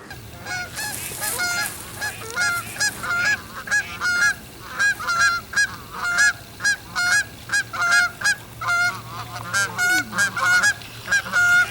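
A flock of Canada geese on water honks repeatedly and loudly in Michigan, calls overlapping in a steady rhythm over a low constant hum.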